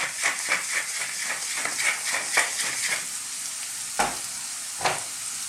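Chopped onions and garlic with pepper and oregano cook gently in a pan, giving a soft, steady sizzle with a rhythmic run of stirring scrapes and a couple of sharper knocks later, and no voices.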